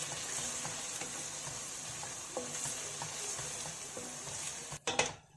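Carrots frying in hot mustard oil in a wok: an even, fairly quiet sizzle with light periodic stirring taps, then a louder clatter and scrape near the end.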